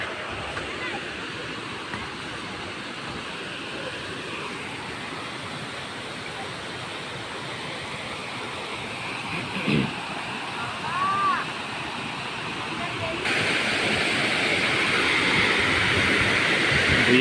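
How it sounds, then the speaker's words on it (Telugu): Kottapalli waterfall in G. Madugula mandal, Andhra Pradesh, rushes in a constant broadband roar that swells louder toward the end, with a brief faint tonal sound midway. "అద్భుతమైన ప్రకృతి జలపాతంలాగా కనువిందు చేస్తుంది అందరినీ. Kothapalli water falls"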